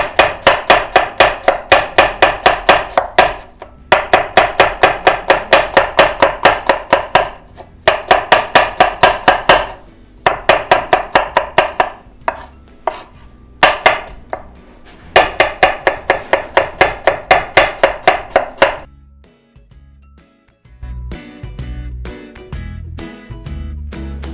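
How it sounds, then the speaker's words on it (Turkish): An onion is sliced into thin rings on a cutting board, with rapid, loud knife chops in fast bursts separated by short pauses, followed by a few softer, scattered knocks at the end. "normal küçük doğramayacağım da halka olarak şu şekil söğüş olarak ince ince"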